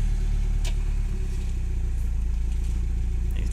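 Nissan S14 car engine running nearby as the car is driven slowly around a driveway, a steady low idle-like drone with slight throttle changes, moderately loud and without talk.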